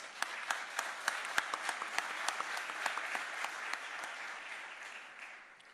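Applause from delegates at a CAF extraordinary general assembly, a moderate hall-wide patter with a few sharp, distinct claps standing out near the front, thinning and fading toward the end.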